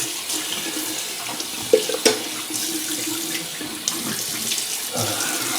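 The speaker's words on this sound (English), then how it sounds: "So let's do a cold rinse." Cold tap water runs steadily from a faucet into a bathroom sink for a face rinse after shaving, a continuous close splashing stream with a few brief louder splashes of hands in the water.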